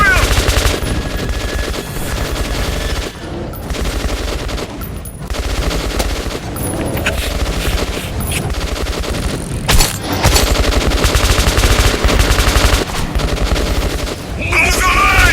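Sustained machine gun fire in the video game Metro 2033 Redux, with dense, rapid bursts of shots rattling nearly nonstop at close range and brief lulls between volleys.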